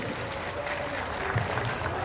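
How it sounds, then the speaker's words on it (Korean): An audience at a dog show festival breaks into applause, a dense, steady patter of many hands that holds evenly for the short stretch, with a faint murmur of crowd voices beneath. "박수 한번 부탁드리겠습니다"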